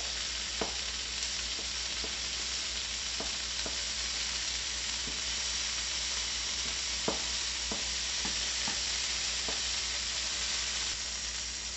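Butter sizzles and spatters in a hot pan while French toast is being prepared, a steady frying hiss with scattered pops and crackles, no talking.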